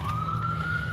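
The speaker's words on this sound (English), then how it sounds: "There you go. There's one going by now." An emergency vehicle siren passes by outdoors, a loud steady wail holding one rising pitch under a low traffic rumble.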